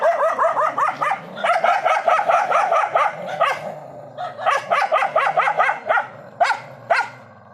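Several dogs bark and yap rapidly and aggressively at close range, bursts of overlapping barks with brief pauses, like a scuffle.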